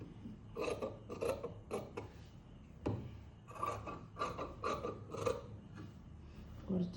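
Scissors snipping through fabric while cutting out an elastic nighty, a series of short crisp cuts in clustered bursts with brief pauses, close and moderately loud.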